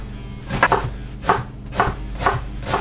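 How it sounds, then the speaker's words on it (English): Five crisp knife chops dicing a red onion on a cutting board, evenly spaced about half a second apart, close and clear with no talking. "And then just dice that down as fine as you can."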